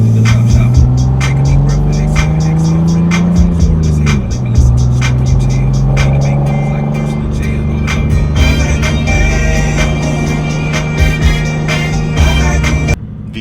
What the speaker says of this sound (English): Vehicles from all directions. It is so busy.